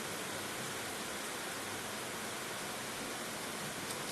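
Soaked Ambemohar rice being strained for modak dough, with water pouring steadily through in an even, continuous rush like a small stream, close and unbroken throughout.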